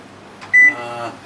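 A kitchen oven being switched on and set to 220 degrees gives a single bright electronic beep, with a faint click or rustle just before it in a quiet room.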